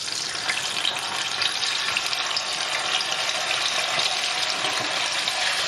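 Tofu deep-frying in hot oil makes a dense, continuous hiss and bubbling roar close by, fairly even in level, with no voices.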